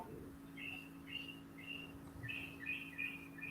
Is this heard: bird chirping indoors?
yes